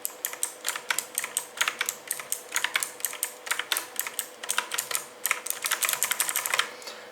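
Typing on a Logitech G Pro X mechanical keyboard with lubed switches, a quick, continuous run of crisp, close clicks and clacks at an uneven rhythm, with no voices.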